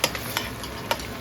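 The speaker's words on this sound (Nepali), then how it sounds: "ल हेर्नुहोस्, यस्तो गरेर भुट्नुपर्छ" Chicken pieces for a local chicken curry stir-fried in a hot pan, a steady sizzle broken by a few short scraping stirs, close and alone.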